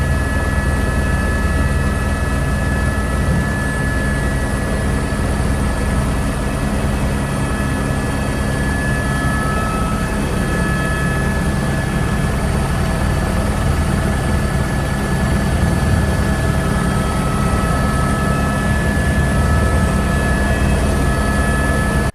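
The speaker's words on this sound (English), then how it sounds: "This helicopter pilot is filming a high-speed chase for an upcoming movie." A helicopter flying overhead while filming a high-speed chase for a movie, its steady rotor and engine roar loud and continuous throughout with no speech.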